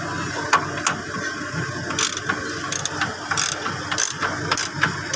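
A ratchet wrench loosens a suspension bolt on a Mitsubishi L300, giving clicking pawl bursts in short uneven runs with brief pauses, close and clear over a faint background.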